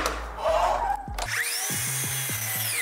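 A miter saw locked at 25 degrees whines up to speed and bites into the wood for a long miter cut. The near, loud cutting roar is followed by the blade winding down.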